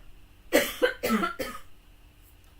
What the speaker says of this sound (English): Excuse me one moment, I'm going to cough.